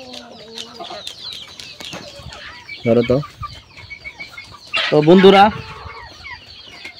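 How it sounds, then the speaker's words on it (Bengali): Deshi chickens on a large farm give two short bursts of clucking over quiet background chatter, with a voice speaking briefly in between. "এই দেখেন এখানে একটি মুরগি আছে, এটারও ঝুটি আছে"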